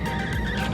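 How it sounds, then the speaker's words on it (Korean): A steady, high-pitched squeak, close and fairly loud, lasting under a second as an Audi A6 diesel's sunroof grinds near the end of closing. "이 썬루프의 소음이 좀 발생되는 상황이에요"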